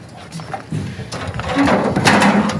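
A metallic scraping and clunking slide builds over a couple of seconds as a 2020 KZ Durango Gold RV's solid entry steps are pulled out, ending in a louder rattle up close.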